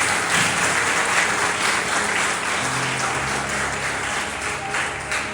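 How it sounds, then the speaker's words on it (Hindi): A church congregation claps loudly during a Hindi sermon, a dense, sustained wash of applause filling the room without any talk over it. "आइए प्रभु यीशु के लिए जोर से ताली बजाएं।"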